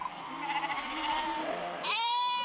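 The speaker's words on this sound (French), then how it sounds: "des milliers de moutons débarquent du sud et traversent les villages du Diois" A large flock of sheep bleats in overlapping, wavering cries, several animals calling at once at close to middle distance while crossing villages of the Diois in the Vercors, one bleat rising loudly near the end.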